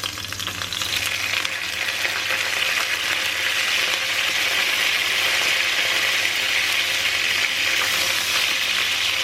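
Curry leaves drop into hot oil in a kadhai for chicken, setting off a loud, dense, close sizzle that holds steady and unbroken throughout, with no voices.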